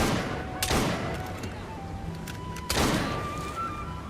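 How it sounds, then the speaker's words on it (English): Gunfire in the video game Assassin's Creed Syndicate, two sharp loud shots a couple of seconds apart over a steady game background hum. "somebody's shooting at me over here."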